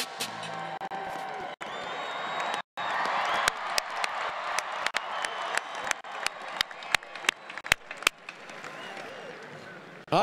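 Crowd applause at a championship parade celebration, a sustained wash of clapping and cheering from a large outdoor crowd, punctuated by sharp sporadic pops and claps, with some speech mixed in.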